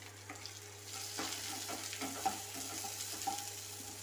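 Round-sliced shallots sauté in a pan for okra mor kuzhambu, a soft continuous sizzle with light scraping stirs close by and no voices.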